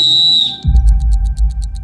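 A sharp, loud whistle blast signals the start of a last-to-talk challenge game. It gives way to low, irregular thumping and rumbling noise, and no one speaks.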